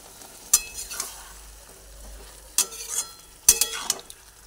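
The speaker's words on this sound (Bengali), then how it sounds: "একদম অল্প করে জলটা দিয়ে দিলাম" A small splash of water hits pumpkin cooking in a hot pan, setting off three short, close hissing sizzle bursts between quieter stretches. No voices are heard.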